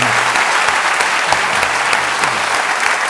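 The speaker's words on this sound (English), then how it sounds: "So if we could have one more round of applause." Loud, dense applause from a university lecture audience at Purdue continues unbroken, close and full-bodied.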